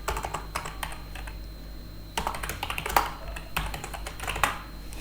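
Rapid typing on a computer keyboard, close and clear, in bursts of quick clicks separated by short pauses, over a faint steady hum with no talking.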